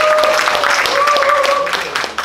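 Steady crowd applause at a Monday concert in a Korean art hall, mixed with cheering and whooping voices, sustained throughout and easing slightly at the end.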